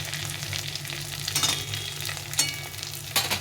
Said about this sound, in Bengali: ডিমগুলো দিয়ে দিয়েছি, এখন আমি এগুলোকে উল্টে পাল্টে ভেজে নেবো।